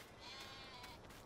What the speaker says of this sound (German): Da haben wir die Schafe